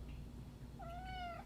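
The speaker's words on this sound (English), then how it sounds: "My cat really wants to get on camera." A house cat meows once, a clear drawn-out call rising out of a steady low hum of room noise, close to the microphone with no talking.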